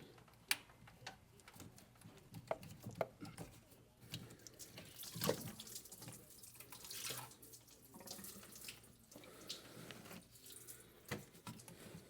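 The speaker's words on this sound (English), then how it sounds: "all of that is just draining right on my floor" Fluid draining from the underside of a lowered truck during water pump removal, splashing and trickling onto a shop floor, with faint ticks and drips over a steady watery patter.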